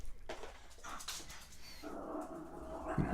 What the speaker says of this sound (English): There goes the dog.